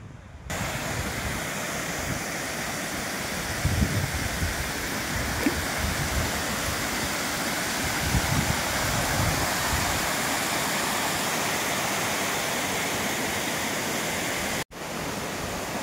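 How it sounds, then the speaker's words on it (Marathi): Siddhewadi waterfall, fed by lake overflow dropping from a height, roars as a steady, loud broadband rush of falling water throughout, with a brief dropout near the end. "त्या ठिकाणी धबधबा तयार झालाय."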